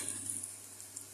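Rice mixture caramelizing in a pan as it is stirred, a faint, low sizzle with light scraping ticks, quiet and without talk.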